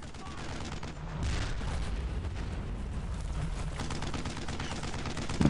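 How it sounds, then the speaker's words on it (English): Dense gunfire from the World War II shooter Brothers in Arms: Road to Hill 30, a continuous rattle of overlapping shots and booming blasts held steady throughout, with a brief louder burst at the very end. "you just keep shooting at them"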